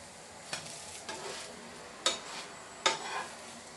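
Chapatti cooking in oil in a pan gives a faint, steady sizzle, broken by four sharper scraping flips and turns that each flare briefly louder, with no voices.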